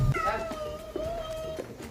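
A young kitten meows in a moving car, one drawn-out, wavering cry filling most of the clip and sounding close, with a low rumble of road noise underneath.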